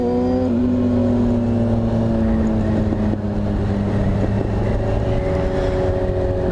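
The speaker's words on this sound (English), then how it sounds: "I'll take the new Ninja 1000 SX out for a spin" A Kawasaki Ninja 1000 SX motorcycle engine drones steadily while riding, a loud, close, continuous tone that shifts pitch slightly as the revs change, with no voices.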